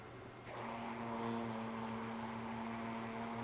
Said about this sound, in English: I'll just use a half-liter container, or sorry, this liter container, an immersion blender, just to get all those clumps out.